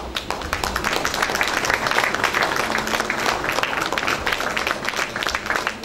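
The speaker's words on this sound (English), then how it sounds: "I need a loud round of applause" A crowd applauds continuously, a dense wash of many hands clapping at steady loudness throughout.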